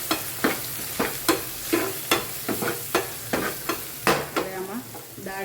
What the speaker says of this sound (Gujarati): બસ આને મિક્સ કરી લઈએ.